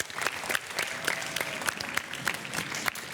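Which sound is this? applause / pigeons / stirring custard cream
applause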